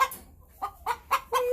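A backyard hen sitting on a nest gives a short run of four or five soft, nasal clucks, close by and rising slightly in urgency, with no other sounds.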